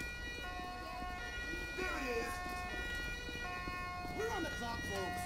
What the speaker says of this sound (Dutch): Vanaf andere kant komen ook ambulances en brandweerauto's.